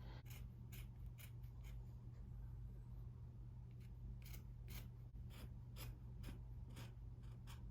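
Scissors snip straight across fabric to crop a top, giving a series of faint, evenly spaced cuts over a steady low hum, close by and with no talk.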